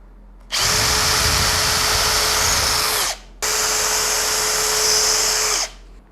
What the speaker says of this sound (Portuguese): Da mesma forma, eu vou fazer o pré-furo.